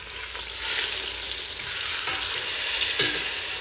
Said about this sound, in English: We're gonna let this brown for about 2 to 3 minutes on one side